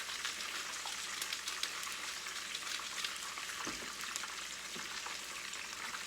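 Lemon pepper wing sauce of melted butter, garlic powder and black pepper sizzles steadily in a pan while being stirred, a dense, even crackle throughout with occasional faint scrapes.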